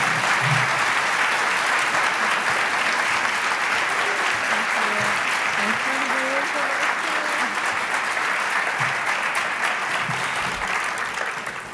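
Audience applause fills the hall at the 2019 Conrad Nelson Lecture at Millersville University as artist Amy Sherald takes the stage; dense, steady clapping sustains throughout and tapers slightly at the very end.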